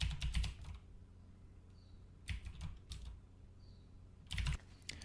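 Bursts of typing on a computer keyboard as an Instagram login and password are entered, three clusters of rapid, close key clatter separated by quiet pauses.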